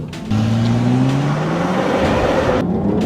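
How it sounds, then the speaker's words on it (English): A car engine revs up steadily, its pitch climbing continuously over a few seconds, loud and close, with a brief drop near the end. "Oh, that engine sounds good, Nathan."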